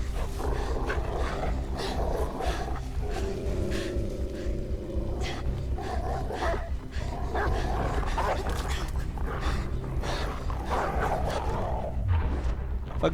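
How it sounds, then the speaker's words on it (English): Dogs bark and growl in the video game Beyond Two Souls, repeated aggressive yelps over a constant low rumble of game sound, with voices now and then. "Fucking dogs."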